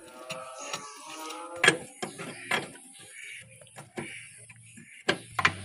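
An 18 wrench ratchets as it loosens nuts on the rotary shaft of a Sifang power tiller, sharp metallic clicks and clanks arriving in irregular bursts, close and fairly loud.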